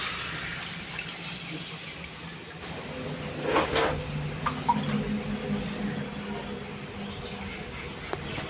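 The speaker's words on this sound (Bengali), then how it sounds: "এবার জল দিয়ে দেবো।" Water poured into a pot of cooking potato curry gives a steady splashing gush with a few clanks of the pot, moderately close and continuous for several seconds.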